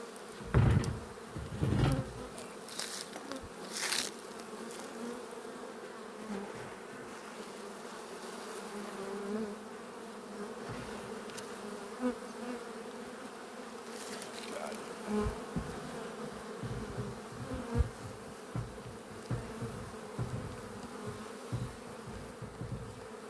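A caught swarm of honey bees drones in a continuous buzzing hum, with occasional knocks and bumps as the lid of the box is handled nearby.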